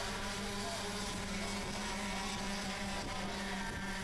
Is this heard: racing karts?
yes